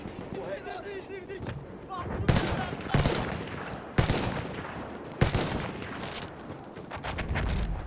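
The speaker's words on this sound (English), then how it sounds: "I'm just shooting at dead bodies." Battlefield 1 multiplayer gunfire: repeated sharp shots and bursts crack out over roughly eight seconds, with a few louder hits standing out, while players talk over the action.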